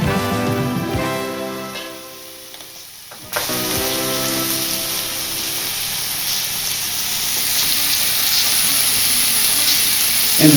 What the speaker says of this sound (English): then we're going to sear it in butter